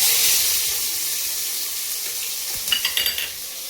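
Onions frying in an oil-filled pan for goat intestine soup, a steady broadband sizzle throughout with a few short stirring clatters near the end, and no voices.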